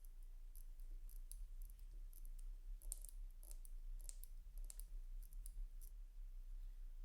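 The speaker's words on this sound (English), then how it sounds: "you see the palette fork is clicking here" Pallet fork clicking inside a vintage gold Movado watch under restoration, tiny crisp ticks in quick irregular clusters, faint and very close, with no talk.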